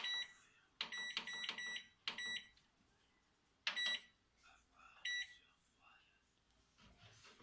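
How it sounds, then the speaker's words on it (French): A home microwave oven heating a pitcher for fifteen seconds at 600 watts, with a sequence of bright electronic beeps in short clustered bursts and quieter kitchen handling sounds between them. "on va mettre le pichet 15 secondes à 600 watts dans le micro-ondes"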